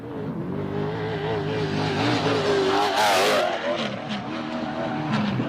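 An off-road race truck at the SCORE San Felipe 250 in Baja passing at speed, a loud sustained engine roar that rises in pitch as it nears and sweeps past, with crunching dirt and gravel.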